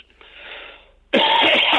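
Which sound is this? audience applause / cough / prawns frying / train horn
cough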